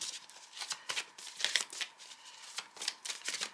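Tarot cards are handled and drawn from a deck, giving a rapid series of papery flicks and riffles. The bursts come repeatedly across the clip, close but soft, with no talking over them.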